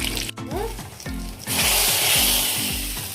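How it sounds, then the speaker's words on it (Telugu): Tempering spices, onions, curry leaves and a pinch of hing hit hot oil for pappu charu, a rough crackle that swells into a dense, loud sizzle over a low rhythmic background hum. "ఆయిల్ పోసుకొని కాగాక తిరగమాత దినుసులన్నీ వేసుకుందాము."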